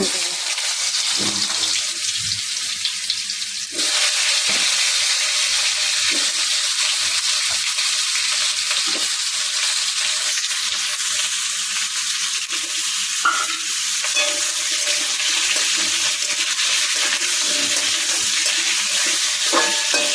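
Pumpkin and mushroom fry in oil with bay leaf, cumin and dried chilli in a pan, with a steady loud sizzle and repeated stirring scrapes throughout.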